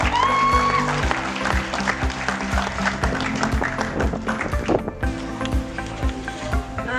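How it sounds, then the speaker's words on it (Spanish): Audience applause at an awards moment for a third-place finish in a running race, steady clapping for about seven seconds over background music with sustained tones. "Así que vamos a darle un fuerte aplauso a Verónica Palma."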